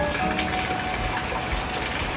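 Heavy rain pours down in a steady, dense hiss that continues unchanged without a break, with no voices heard.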